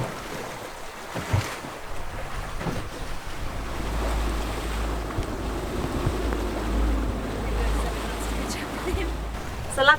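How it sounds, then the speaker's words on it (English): The sailboat Kittiwake motors along on the water, a steady low engine drone under wind noise and lapping waves, with a voice speaking faintly at times. "we're just motoring down"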